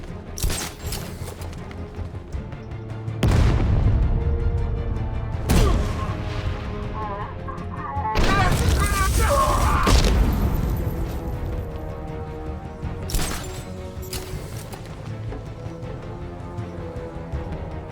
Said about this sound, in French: Je vais miner un point d'observation. Oh. Je le tiens! La grenade!